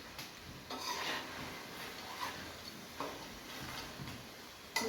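Crispy homemade potato chips lifted out of hot frying oil give a steady close sizzle and crackle, broken by a few light clicks and taps from the utensil.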